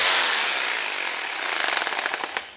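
A power drill bores into a vise thumb mold to widen a hole, a loud continuous grinding whir that turns into rapid rattling chatter toward the end.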